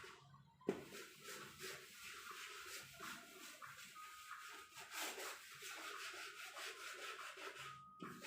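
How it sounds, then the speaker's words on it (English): A board is rubbed clean with brisk, continuous scrubbing strokes, faint but close, following a single sharp knock at the start, with no talking. "So I am rubbing the board."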